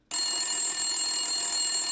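A telephone rings in the video game Silent Hill, a loud bright electronic ring starting abruptly and sustaining evenly through the short moment.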